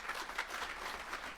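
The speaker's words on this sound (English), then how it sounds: "Let's give them a round of applause" An audience at a church gathering claps in a short, dense burst of applause that stays steady and fairly faint for its whole length.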